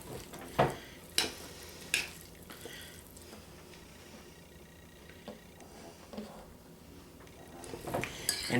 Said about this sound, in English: So mixing around, mixing around.